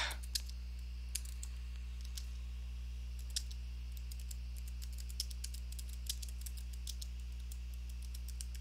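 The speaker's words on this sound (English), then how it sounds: "Not used to this tiny keyboard yet." Sparse clicking keystrokes on a tiny computer keyboard tap out one by one at an uneven pace, faint and close over a steady low electrical hum, with no talking.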